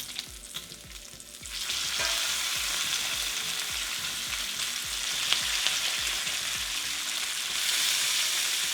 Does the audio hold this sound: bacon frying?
yes